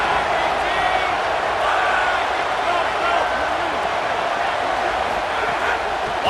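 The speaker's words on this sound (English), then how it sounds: "how nice is it to have the home crowd going absolutely bananas" A home crowd at a college football game roars loudly and steadily in a big stadium, a dense wall of cheering and noise that holds throughout with no break.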